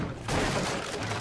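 Burst of rapid gunfire in Rainbow Six Siege, a short dense fusillade of shots erupting at close range, with a voice briefly mixed in.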